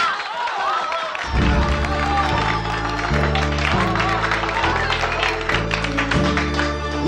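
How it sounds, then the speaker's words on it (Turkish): Classroom applause and cheering break out after a moment of talk, a busy crowd of clapping hands and excited voices running on steadily under strong, rhythmic musical tones. "bu alkış kıyamet ne?"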